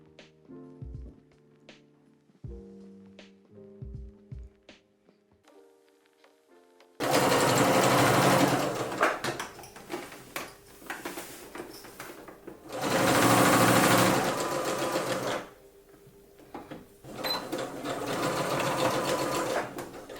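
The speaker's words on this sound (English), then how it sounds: "With right sides together now, I'm going to sew the front and back side seams together." A sewing machine stitches the front and back side seams of a shirt dress. Soft tones and light tapping come first, then long loud bursts of rapid mechanical whirring close by, broken by short pauses.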